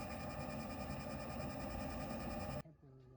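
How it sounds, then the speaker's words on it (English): A steady, droning mechanical roar with a constant hum from the exhaust of an RV diesel combination water heater and furnace runs loud and unbroken for over two seconds, then cuts off abruptly, leaving quieter low tones. "Oh, I hear the exhaust coming out."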